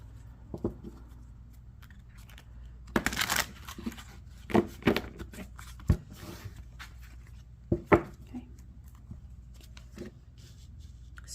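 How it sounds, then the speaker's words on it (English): Tarot deck being shuffled by hand, soft scattered card riffles and taps with a few sharper snaps spread over several seconds, quiet and close with no talk. "A couple more shuffles."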